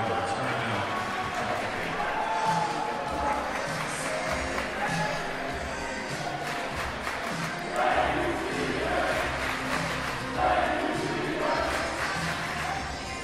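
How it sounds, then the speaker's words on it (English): St. Paul's student crowd at a varsity high school basketball game against Chapelgate Christian, cheering and chanting loudly in a gym, with swelling roars over steady crowd noise and a commentator talking over it. "the St. Paul student crowd appreciating their seniors"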